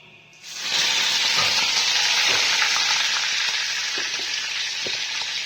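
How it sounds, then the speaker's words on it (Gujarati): Cumin seeds and curry leaves hit hot oil in a pan and burst into a loud, close, continuous sizzle after a brief quiet start, with a few light pops and stirring knocks, and no talking. "તેલ લીધું, તેલમાં જીરું નાખ્યું, થોડાક લીમડીના પત્તા નાખીશું."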